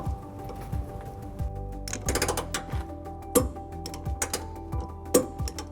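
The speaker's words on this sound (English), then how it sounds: "take our 11/16 socket and torque wrench and torque it to manufactured spec" Torque wrench with an 11/16 socket tightening trailer hitch bolts on a 2014 Nissan Sentra, giving a series of sharp ratcheting clicks and ticks at an irregular pace, close up, with no talking.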